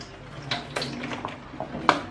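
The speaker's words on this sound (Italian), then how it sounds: "giro tutto intorno in modo che l'acqua raggiunga tutti i punti del pane." Bottled water pours and splashes onto a sheet of Sardinian carasau bread in a kitchen, coming as irregular close wet dribbles and small taps, with one sharper splash near the end.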